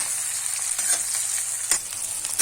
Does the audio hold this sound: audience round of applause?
no